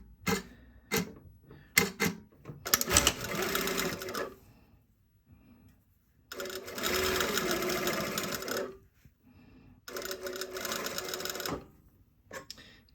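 Sewing machine stitching a row of seam on a cathedral placket, three close, loud bursts of rapid mechanical whirring and clatter separated by pauses filled with small clicks and handling sounds.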